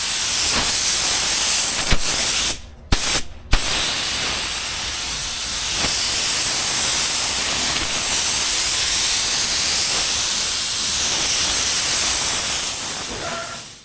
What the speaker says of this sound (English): Now we are applying the clear coat to seal the paint and give it a glossy finish.